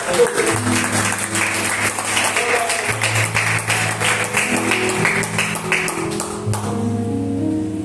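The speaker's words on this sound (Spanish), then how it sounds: "Vamos a dar un aplauso a eso" Church congregation applauding during a Spanish-language sermon, a busy patter of many hands clapping over sustained organ or keyboard chords, fading out near the end as the music carries on.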